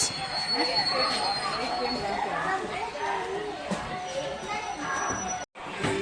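A Jolarpettai to KSR Bengaluru MEMU express train of 12 coaches runs along the track with a continuous rumbling roar and faint wheel squeal, while voices chatter over it.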